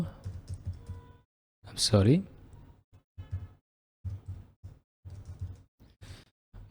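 Someone types a spreadsheet IF function formula on a computer keyboard. Light, close key clicks come in short irregular bursts with quiet gaps between them, and a voice briefly speaks over the typing.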